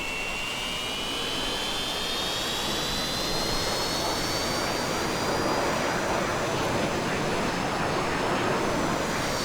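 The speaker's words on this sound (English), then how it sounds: "Sounds, I mean, let's just bring the engine" F-86 Sabre jet engine spooling up in Microsoft Flight Simulator, a continuous loud roaring whoosh with a rising whine that climbs steadily in pitch and holds, steady and uninterrupted with no talk.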